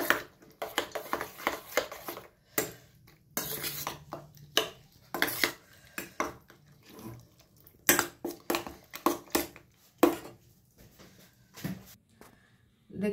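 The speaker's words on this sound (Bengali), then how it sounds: "এটা সুন্দর করে চামচ দিয়ে মাখাতে পারবো না বলে আমি হাত দিয়ে মাখাচ্ছি।" Raw chicken worked by hand in a bowl with cornflour, salt, chilli and egg, giving irregular wet squelches and scattered clinks of the bowl and utensils, close by with short pauses and no talking.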